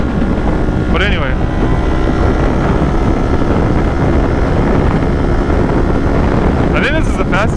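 A Kawasaki Ninja 400 motorcycle riding at speed on a highway, heard as a loud, continuous rush of wind and engine roar, with two brief rising engine whines standing out near the start and end.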